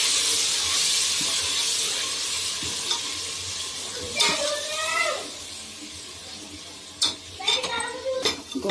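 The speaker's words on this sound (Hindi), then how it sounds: "टमाटर डालेंगे हम पहले इसमें, नरम होने देते हैं" Tomatoes dropped into meat frying for korma, a soft hiss of frying that is briefly interrupted by several sharp clatters and a few louder scrapes and sizzle bursts toward the end, close by.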